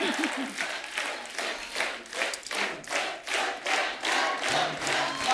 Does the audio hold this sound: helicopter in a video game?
no